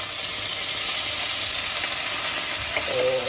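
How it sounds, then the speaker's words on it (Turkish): Chicken pieces searing in a hot pan give a steady, loud, hissing sizzle that stays even throughout, with a faint scrape near the end. "tavuklarımız iyice mühürlenecek"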